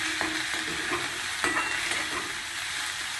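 Chopped ginger and green chilies fry in a pan for a tapioca masala dosa filling, a soft, steady sizzle under occasional light scrapes of a stirring spoon, fairly quiet and close.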